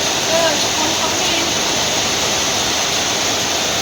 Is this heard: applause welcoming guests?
no